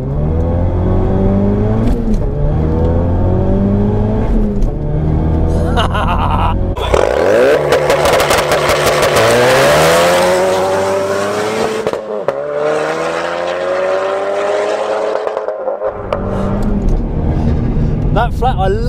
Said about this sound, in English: So all you have to do is first gear, clutch down, accelerate to the floor.